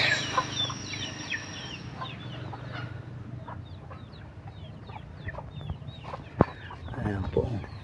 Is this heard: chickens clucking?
yes